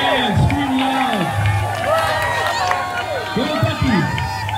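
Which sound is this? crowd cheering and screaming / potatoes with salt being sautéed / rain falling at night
crowd cheering and screaming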